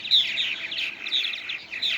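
Purple martins chirping in a steady, continuous stream of high, bright calls that overlap without pause, fairly close and clear, with no other sounds.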